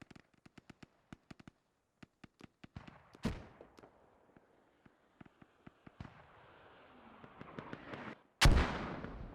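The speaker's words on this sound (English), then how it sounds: "Oh, mortars are starting to hit on Hilltop." Mortar shells explode in a multiplayer war video game, a scatter of sharp distant cracks and thumps at irregular intervals, punctuated by a few heavier booming impacts, one especially loud and close near the end.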